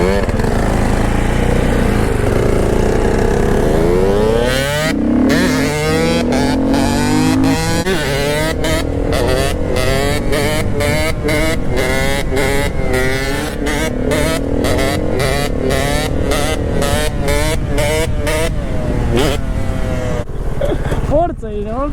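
A high-pitched KTM EXC 125 two-stroke supermoto engine revs hard again and again, climbing and dropping in pitch, loud and close, with rapid throttle blips toward the end.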